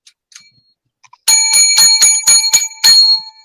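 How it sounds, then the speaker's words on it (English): A bicycle bell rung by hand about seven times in a quick, steady run of bright metallic dings, loud and close, after a couple of faint ticks. "Let's ring the bell."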